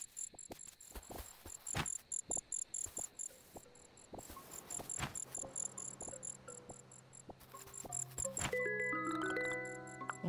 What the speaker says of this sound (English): That's a black cricket.